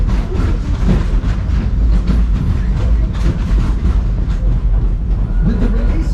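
The Disney's Animal Kingdom ride train rolls along steadily, a loud close rumble with rattling and clacking from the cars that continues unbroken throughout.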